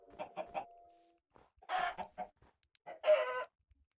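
Minecraft chickens clucking in short bursts, a few soft clucks followed by louder, buzzy squawks, fairly close with gaps of quiet between calls.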